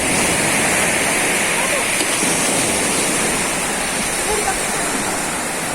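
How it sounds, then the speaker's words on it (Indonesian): Ocean waves on a surf beach roar in a steady, loud wash of broadband rushing noise that fills the whole clip without distinct breaks. "Nih kita lihat dulu kondisi ombak di luar sana."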